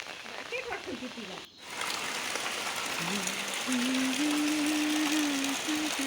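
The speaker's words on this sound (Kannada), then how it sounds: "ನೋಡಿ ಈಗ ಯಾವ ಥರ ಮಳೆ ಬರ್ತಾ ಇದೆ ಅಂತ." Heavy rain pours down outdoors around a house, a dense, steady hiss of water on surfaces that briefly drops out, then returns loud and constant, with a faint tonal hum underneath.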